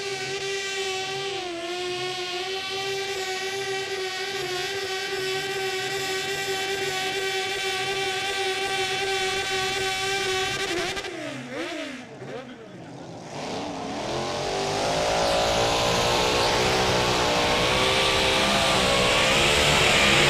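A Crazy Green 500 kilo modified-class garden pulling tractor engine drones loudly and steadily at a European mini rods pulling championship, dips briefly, then roars back harder, with an announcer speaking over it.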